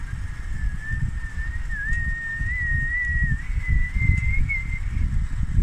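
A voice imitates a long whistle with one sustained, slightly wavering tone that stands in for a defective whistle outdoors on a mountain walk near Great Gable. Steady wind rumble runs underneath.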